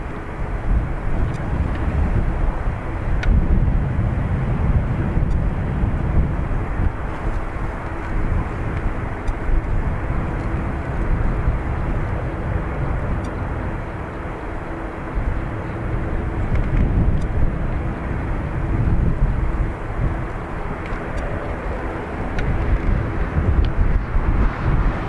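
A WestJet airliner departs Dublin Airport, heard as a loud, continuous low engine roar that holds steady for the whole stretch without fading.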